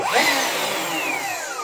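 A Bosch GCM18V-216 Biturbo cordless miter saw motor spins up and runs at a loud, steady high-pitched whine, its pitch sweeping as the blade gets up to speed.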